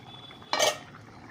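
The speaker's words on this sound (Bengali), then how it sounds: "তো বন্ধুরা, ঢাকাটা খুলছি।" A cooking pot's lid is lifted off in a kitchen: one short, fairly loud metallic clatter and scrape, with quiet room tone before and after.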